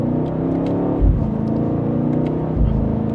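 A 2025 BMW M8 Competition Coupe accelerates back up to speed after a U-turn, its engine droning steadily with rising revs and two brief low surges from gear changes, heard from inside the car.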